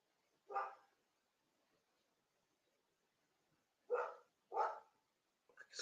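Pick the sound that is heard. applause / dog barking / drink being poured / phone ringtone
dog barking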